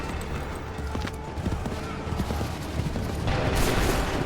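Musket volley fire in the Assassin's Creed 3 Remastered video game on Xbox One, a dense crackling fusillade of many shots layered over battlefield din, swelling louder toward the end with shouted commands nearby.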